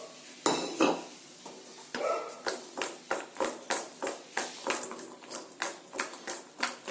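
Cashews and cardamom are dry roasted in a pan without oil, a utensil scraping and clinking against the pan in a steady, rhythmic stirring beat roughly twice a second, close and clear.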